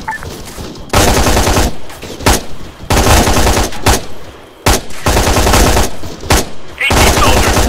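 Heavy gunfire from soldiers in the Arma 3 military game, loud sustained bursts of rifle and machine-gun fire in several long volleys separated by short pauses, close and dense.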